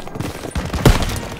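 Gunfire during the Call of Duty WWII campaign mission Stronghold, a short burst of rapid close shots with one heavier crack standing out, all on top of chaotic battle noise.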